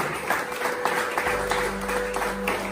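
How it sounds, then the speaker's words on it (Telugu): A church congregation claps together in a steady rhythm, a dense, close wash of hand claps at Christmas service sustained through the whole stretch. "సంతోషంగా చప్పట్లు కొడదామండి"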